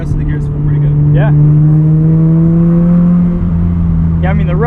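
Rotary engine of a 1990 Mazda RX-7 FC driven hard on a canyon road, heard from inside the cabin as a loud sustained drone with revs rising and falling through a shift, while people talk over it.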